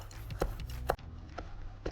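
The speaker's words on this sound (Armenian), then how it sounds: "Ես իմ մաղդանոցը կտրատեցի," Parsley chopped with a knife on a board: a few soft, separate knife strikes, close and fairly quiet, spaced unevenly.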